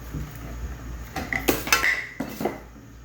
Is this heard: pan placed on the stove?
yes